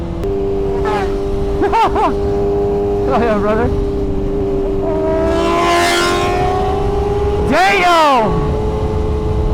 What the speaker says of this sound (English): This bike sounds good, dude.